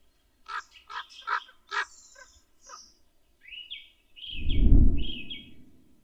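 Ravens near an eagle owl nest in a wild European forest give a string of harsh croaking calls at close range, followed by a few higher calls, with a low rumbling noise near the end.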